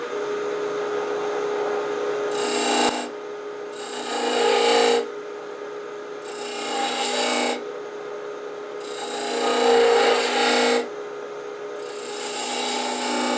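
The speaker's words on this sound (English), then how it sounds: "So I'm going to make a little V groove right here with a skew" Skew chisel cutting a shallow V groove into a wooden salt shaker on a lathe: several separate rasping cuts over a steady motor hum, each lasting a second or two with short gaps between.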